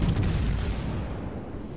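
Naval gunfire during an Alabama battleship run in World of Warships: Legends, fired at the Leon: a dense, loud roll of heavy booms and rumbling blasts that fades slightly over under two seconds, with no voices.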